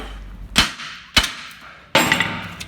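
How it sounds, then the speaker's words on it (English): A hammer strikes a Smart Fortwo's steel front hub three times to shock loose a seized ball joint, each blow a sharp, loud metallic crack with a brief ringing tail, spaced irregularly, the last hit the heaviest. "I'm going to shock the hub to free off the bloody ball joint, which I shall just use my hammer"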